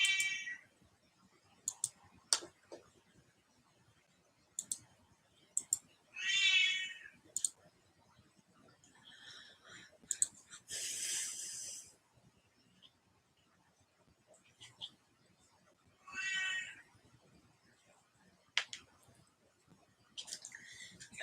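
A house cat meows several times in separate, fairly close calls spread across a quiet room, with scattered clicks and light tapping between them.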